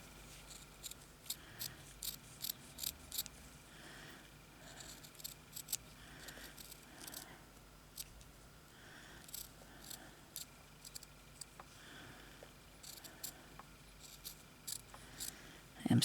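Scissors cut paper for a vintage journal in a string of close, crisp snips in quick bursts, fairly quiet, with brief pauses between groups of cuts and faint background noise.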